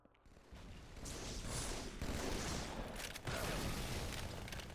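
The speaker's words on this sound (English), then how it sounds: "it's all about these submachine guns and plasma rifles" Rapid submachine gun and plasma rifle fire from a Halo multiplayer match, a dense, sustained chatter of shots and energy bursts running loud and continuous with a brief dip near the middle.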